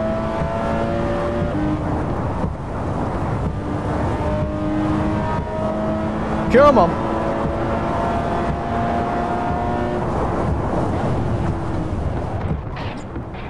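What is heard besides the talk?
car engine in a video game (No Hesi)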